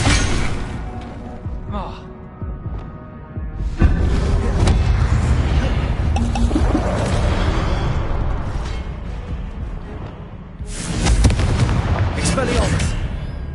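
Incendio and Expelliarmus spells cast in a Harry Potter video game, loud magical blasts and bursts repeating through the clip, with a sharp burst near the middle and a stronger one toward the end, while a voice calls out over them.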